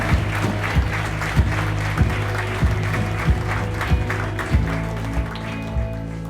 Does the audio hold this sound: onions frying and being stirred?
no